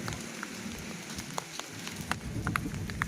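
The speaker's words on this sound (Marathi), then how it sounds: "पाऊस चालू झाला आहे." Rain begins falling outside a shop, with scattered drops tapping on a surface over a faint, soft patter that thickens slightly toward the end.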